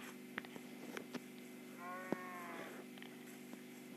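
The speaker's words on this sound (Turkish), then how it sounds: "Koyunu öldüreceğim." A sheep bleats once in Minecraft, a short wavering cry around the middle, over a steady low hum with a few faint clicks and taps scattered around it.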